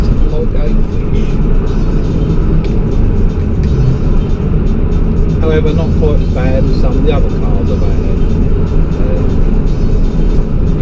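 A Ford Focus ST3 engine drones steadily and loudly from inside the cabin during a night drive, a constant low rumble with slight rises in revs, while someone talks over it throughout.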